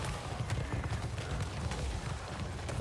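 Horse hooves clatter in a fast, rhythmic gallop during a Total War: Warhammer 3 battle. Cavalry is on the move, with steady clip-clop under a dense, busy battlefield mix.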